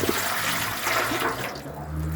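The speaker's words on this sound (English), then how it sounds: "Oh yeah, look at it pouring out." Water gushes steadily from a leaking coupler under a kitchen sink, a close, rushing, splashing flow that runs throughout and tails off slightly toward the end.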